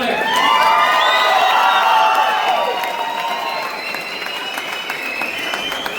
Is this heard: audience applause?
yes